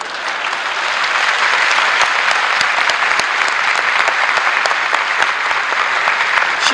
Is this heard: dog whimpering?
no